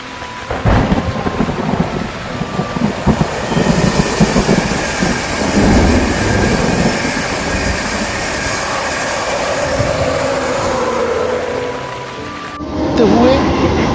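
Train ride home from Shimla through the hills, with a steady loud rumble and wash of noise sustained throughout, an abrupt change near the end into a brighter, sharper stretch.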